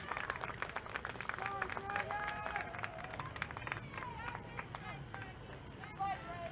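Spectators at a high school boys soccer game applaud as a player walks off the field, a distant, low patter of clapping and crowd noise with talk over it.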